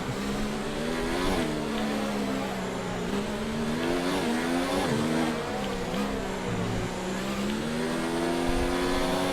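An F1 race car engine in the F1 2019 video game at the Singapore Grand Prix wails at high revs. Its pitch drops sharply and climbs again through repeated gear shifts, loud and continuous with no voices.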